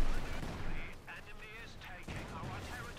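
Video game battle with a Panzer IV opening heavy fire on engineers alongside rifle grenades: steady rumbling gunfire and dense combat noise fill the scene, with a voice talking over it.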